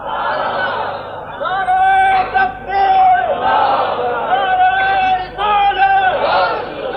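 An audience at a religious speech chanting slogans in unison, loud, close, rhythmic call-and-response shouts repeating in several bursts with brief pauses between them.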